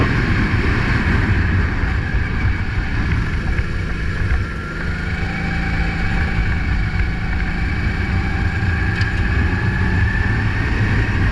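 A racing kart engine on the Grimaud track runs at steady, loud drone throughout, with a continuous buzzing tone and wind rush, holding near-constant volume with a slight dip midway.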